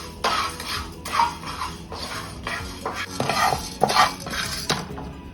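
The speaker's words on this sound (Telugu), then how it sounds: "ఇవన్నీ డ్రై రోస్ట్ చేసుకుందాం" Whole spices including cloves, peppercorns, cardamom and coriander seeds dry roasted in a pan for a goat head masala curry, with repeated scraping stir strokes and dry rattling against the metal, close and rhythmic.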